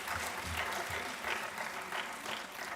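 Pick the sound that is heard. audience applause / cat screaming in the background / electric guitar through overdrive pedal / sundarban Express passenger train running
audience applause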